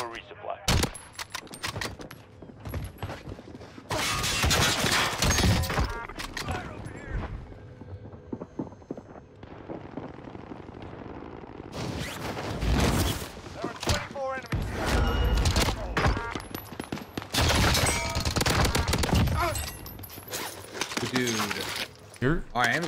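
Milano submachine gun in Call of Duty Warzone firing rapid bursts of loud, dense gunfire in several long stretches, mixed with other game sounds and someone talking.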